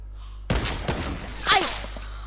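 A burst of rapid gunfire in Fortnite, abrupt shots clustered together after a brief quiet, with a sharper crack partway through, then a low steady hum.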